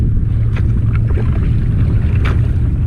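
A boat's motor drones low and steady over water on the Mississippi River made choppy by passing boats' wakes, with wind buffeting the microphone and no voices.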